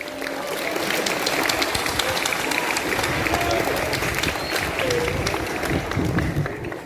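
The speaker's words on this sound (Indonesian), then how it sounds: "Tepuk tangan untuk Gita Mahardika." Steady applause from a crowd at a school flag ceremony, greeting the SMA Negeri 1 Ngawi choir Gita Mahardika, with dense clapping holding evenly loud throughout and some voices mixed in.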